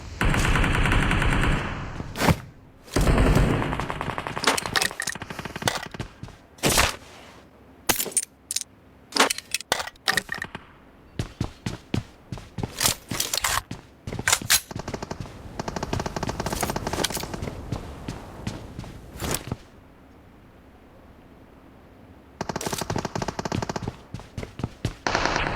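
Gunfire in the video game PUBG: rapid machine-gun bursts and single shots come in uneven volleys, separated by short quiet gaps and then a longer lull before firing resumes.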